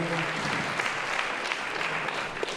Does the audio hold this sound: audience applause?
yes